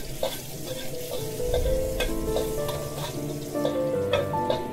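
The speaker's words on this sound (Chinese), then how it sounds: "热锅加油，放入豆豉炒出香味" Fermented black beans stir-frying in hot oil in a wok, a continuous sizzle broken by repeated metallic scrapes and clinks of a spatula, close and moderately loud with no talking.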